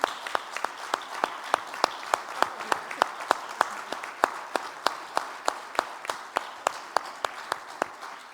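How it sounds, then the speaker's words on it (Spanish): Rhythmic, unified clapping from the audience at a multiple sclerosis awareness event, sharp regular beats over a bed of scattered applause, loud and sustained throughout. "Yo quiero pedirles un aplauso a todas ellas"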